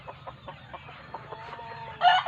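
A gamecock raised for cockfighting clucks in a quick series of soft pulses, then breaks into a louder crow at the very end. It is close and clear, with no talking.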